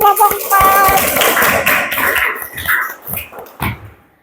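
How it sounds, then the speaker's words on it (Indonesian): Students in a classroom applaud a presenting group, a close burst of many hands clapping that thins into scattered claps and taps, with some voices mixed in. "Tepuk tangan untuk kelompok"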